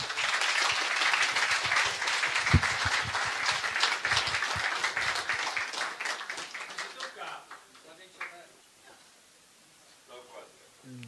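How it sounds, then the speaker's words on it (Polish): Audience applause for a lecture speaker at a talk on ideological subversion, a loud dense burst of clapping for about seven seconds that thins into scattered claps and fades, with some voices underneath. "Brawa"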